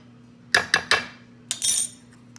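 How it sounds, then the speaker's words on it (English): A spoon scrapes and clinks against a chicken casserole dish while tomato sauce is stirred through it, giving three quick sharp knocks and then a longer scraping pass, close and fairly quiet, with no voices. "now I'm just going to give it a stir, kind of even it out"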